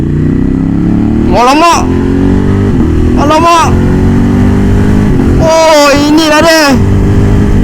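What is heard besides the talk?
motorcycle revving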